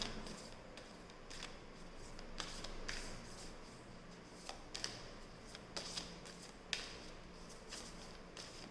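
Tarot cards being shuffled by hand, a steady papery riffling with repeated crisp slaps and flicks, close and fairly quiet, with no talking.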